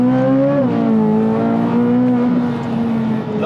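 A 2023 Chevrolet Corvette Z06 track-focused engine revving hard in sport mode, its loud, close tone climbing steadily in pitch as the revs keep rising, with no talking over it.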